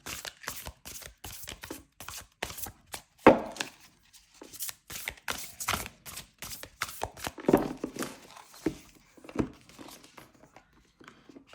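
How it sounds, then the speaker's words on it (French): Tarot cards being shuffled by hand make rapid, dense papery riffles and slaps in uneven bursts with short pauses, close up and fairly loud. "je vais prendre du coup 2 cartes du magnifique tarot ici et on mélange"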